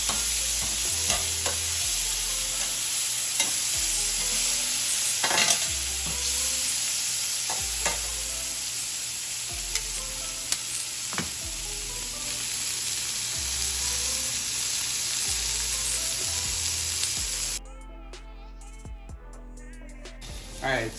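Vegetables for mushroom fajitas charring in a hot skillet, a continuous crackling sizzle with scattered pops and occasional stirring scrapes, the frying dropping away abruptly near the end.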